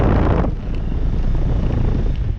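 A 2016 Trane XB13 five-ton heat pump with a scroll compressor runs in cool mode, giving a steady, loud broadband whoosh of fan airflow and low mechanical hum close by, with no talking.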